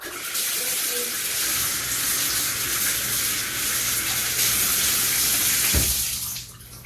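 Water runs steadily into a tub being cleaned out, a loud, close, continuous rushing hiss that holds for several seconds before cutting off near the end.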